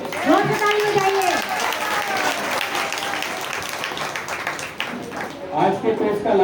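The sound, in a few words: applause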